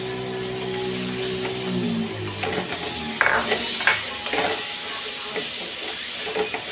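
Onion and tomato sauté in a pan for a roasted-coconut chicken curry, giving a continuous close hissing sizzle broken by scraping stirs and clinks from a spoon, with no voices.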